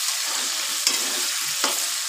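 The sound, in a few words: potatoes frying in a pan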